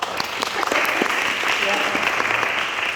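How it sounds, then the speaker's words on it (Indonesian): An audience at an agency development seminar applauds its leader, a dense burst of steady clapping filling the room for a few seconds. "So kita tepuk tangan buat leader kita."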